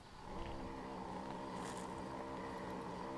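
The small motor of a fishing bait boat drones steadily on the water as the hull bounces, a low, even hum that stays close and moderately quiet throughout.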